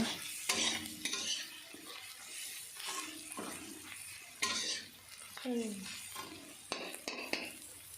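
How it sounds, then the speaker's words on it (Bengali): A spoon scrapes and stirs spices frying in oil with fish head and cabbage in a metal pan, giving irregular close clinks and scrapes over a soft sizzle, with no voices. "সবকটা মশলা দেওয়া হয়ে গেলে আমি আবারও সব কিছুকে একসাথে ভালোভাবে নাড়াচাড়া করে মিশিয়ে নিচ্ছি"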